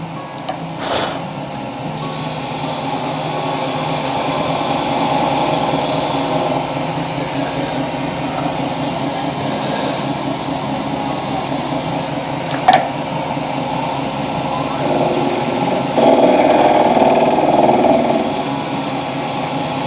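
A lathe turns an epoxy resin shaving brush handle in purple, blue and pink while a cutting tool works it, with a steady motor whir, scraping and an uneven, rhythmic clunk from the off-round blank.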